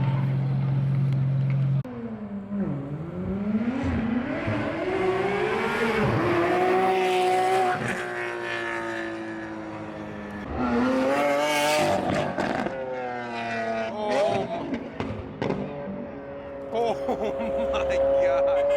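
A loud C8 Corvette sports car roars past at a car meet, engine revs rising and falling in long surging sweeps and pops, close and dominant, with people talking over it.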